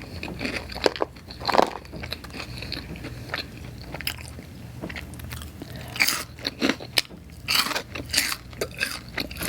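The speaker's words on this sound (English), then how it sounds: "Really focusing on eating." Close, loud crunching bites and chewing of a pizza topped with hot Cheetos, with crisp irregular bursts repeating over steady mouth sounds, and no talking.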